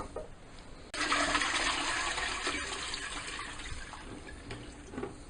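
Water pours suddenly and steadily through a colander as cooked pasta is drained, a loud rushing splash that starts abruptly and slowly eases off.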